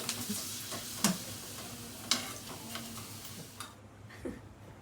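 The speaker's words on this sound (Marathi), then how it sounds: "आता ते बऱ्यापैकी तेल तापलंय आपण जे ते भजे काढून घेऊया मस्त छोटे छोटे" Bhaji fry in hot oil in a home kitchen, a steady soft sizzle broken by a few sharp taps and clinks of a utensil against the pan, heard close with no talking.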